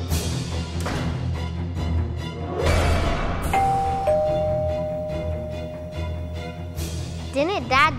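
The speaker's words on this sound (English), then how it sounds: "Who's ringing the doorbell?" A two-tone doorbell chimes, ringing out clearly over background voices and sounds, its tones lingering for a few seconds.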